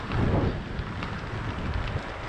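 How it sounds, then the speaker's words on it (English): Strong wind roars and buffets the microphone during a gravel bike ride, a steady, rumbling rush with no pauses. "it's very windy and I'm shouting"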